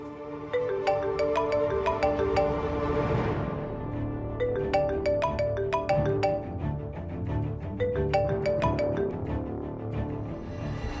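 A phone ringtone plays a repeating electronic melody with bright bell-like tones. It sounds close and clear and runs on its own with no talk.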